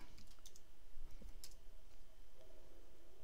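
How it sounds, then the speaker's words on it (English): Typing on a computer keyboard during drawing work in Vectorworks, a few quiet, close, sparse clicks as keys and the Enter key are pressed, with no talk. "hit the Enter key twice"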